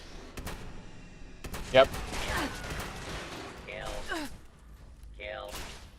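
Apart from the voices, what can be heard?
shotgun shooting robots in a video game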